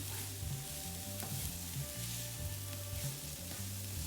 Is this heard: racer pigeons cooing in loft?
no